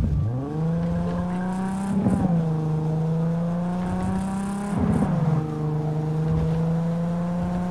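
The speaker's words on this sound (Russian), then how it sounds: "Когда машина по неровной какой-то дороге, по каким-то неровным участкам проезжает" Steady engine drone of a car in the video game Cyberpunk, with pitch dips as it drives over uneven road patches, two jolts interrupting the hum.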